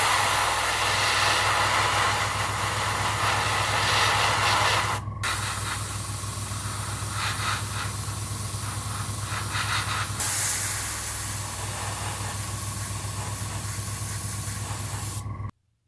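An airbrush sprays Vallejo Model Air Fire Red paint onto the hull of a 1/72 Bandai Perfect Grade Millennium Falcon model, a steady close hiss in long bursts separated by brief pauses, over a constant low compressor hum.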